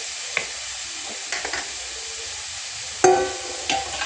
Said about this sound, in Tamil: இது எண்ணெய் காயுது.